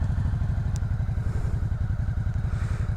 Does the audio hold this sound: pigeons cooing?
no